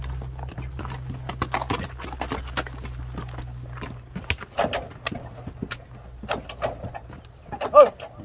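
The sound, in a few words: horse hooves clip-clopping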